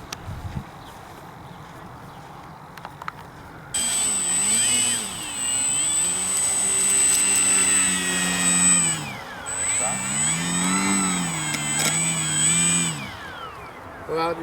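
An E-flite 1.5m M7 Maule RC model plane with oversized wheels runs over grass, its electric motor whining loudly and rising and falling in pitch for about ten seconds after a quieter outdoor stretch.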